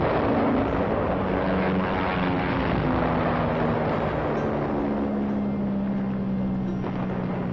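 Continuous loud roar of military Gloster Meteor jet engines over Korea, with a steady droning hum, sustained throughout without pause.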